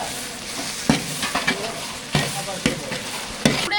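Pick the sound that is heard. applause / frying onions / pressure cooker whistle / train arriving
frying onions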